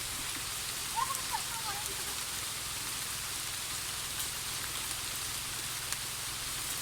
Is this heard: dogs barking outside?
no